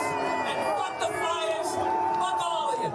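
A large comedy club crowd boos a comedian in Philadelphia, a loud, continuous wave of jeering voices with scattered shouts rising over the mass of sound.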